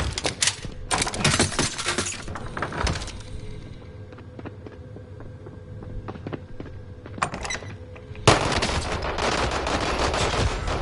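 Bursts of LMG and SMG gunfire in a video game, with rapid automatic volleys at the start and end and scattered lighter shots and clinks through a quieter middle stretch.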